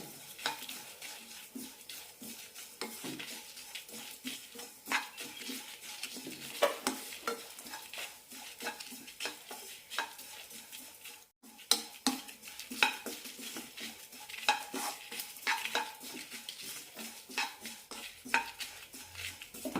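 Grated coconut dry-roasting in a pan for a Kerala sesame curry, with frequent scraping and clinking stirs over a quiet, low sizzle, irregular and close by.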